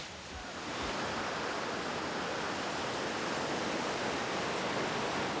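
Trafalgar waterfalls in Dominica cascading, a dense, steady roar of falling water that swells in over the first second and then holds constant and full, with no voices.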